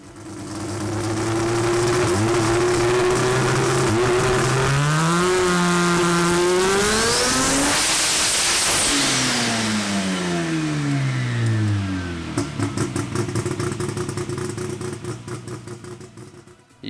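A 1670hp compound turbo two-rotor rotary engine revs hard and close, its pitch sweeping up and down through several loud pulls, then settling into a rough, chattering idle as it fades.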